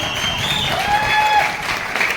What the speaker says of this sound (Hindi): इसके नाम पर जोरदार ताली होना चाहिए, जोरदार।